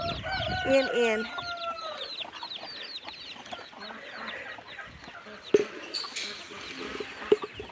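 Buff Brahma chickens clucking and calling close by on a rural South Dakota farm, a busy cluster of fowl sounds at first that thins to scattered clucks, with a person speaking now and then.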